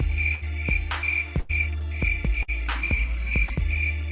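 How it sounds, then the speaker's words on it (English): Rhythmic cricket chirps repeat in steady bursts, a bright insect trill standing alone against a quiet background with no talking. "That's all I get. Crickets."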